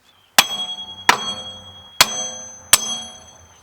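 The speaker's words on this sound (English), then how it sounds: "we will have to tap it with a hammer" Four sharp, ringing hammer blows strike the hub of a wheel bearing from a 2011-2016 Hyundai Elantra rear axle, evenly spaced and close, each with a short metallic ring.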